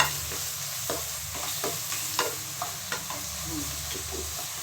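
Brinjal sizzles in a pan on the stove and is stirred with a spatula, leaving a soft, even frying hiss broken by irregular light clinks and scrapes, close up with no talking.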